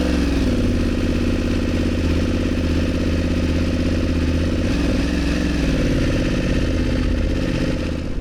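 BMW F900 GS motorcycle pulling away, a loud, close, continuous engine drone with steady throbbing pulses and slight variation in pitch throughout.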